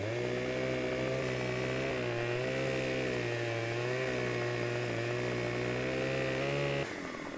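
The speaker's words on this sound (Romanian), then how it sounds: "acum singurul lucru care ne-a mai rămas de făcut este să tăiem un copac." Chainsaw cutting down a tree in Farming Simulator 15, a steady loud buzzing drone with slight pitch wavering, running continuously before cutting off near the end.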